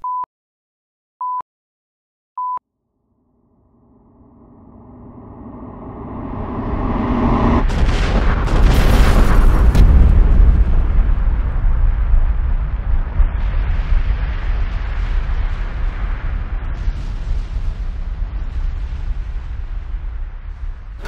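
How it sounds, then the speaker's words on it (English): Three short tones sound, then a loud explosion erupts into a long, roaring rumble that keeps churning and slowly fades, in snow. "things devolved into seeing how big of an explosion we could make"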